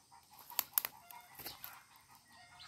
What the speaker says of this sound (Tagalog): Mga manok yan.